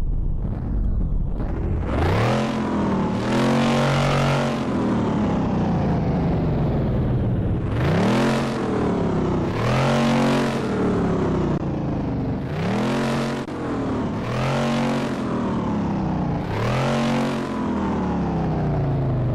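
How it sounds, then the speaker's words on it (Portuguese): A powerful Dodge Challenger RT engine in a video game revs repeatedly, rising and falling in pitch with roaring bursts, loud and close, with no talking. "o ronco desse carro tá absurdo"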